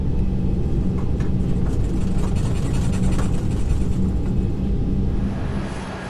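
Aircraft engines idling while holding short of the runway in a flight simulator game, a steady loud low rumble and hum that continues throughout and eases slightly toward the end, with no talking.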